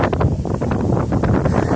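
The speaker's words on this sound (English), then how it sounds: "Ooh, it is windy." Wind blowing outdoors, buffeting the microphone in loud, uneven low-pitched gusts and rumbles that rise and fall across the moment.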